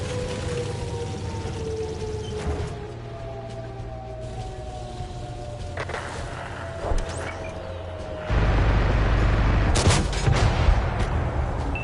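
Tank cannon and gunfire in World of Tanks, with scattered shots and mechanical rumble amid a busy battle, then a louder, heavier burst of firing and engine noise near the end.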